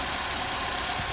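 A 2005 Chevrolet Cavalier with the 2.2-liter Ecotec inline-four idles steadily in a junkyard, a smooth, even engine hum with no talk over it.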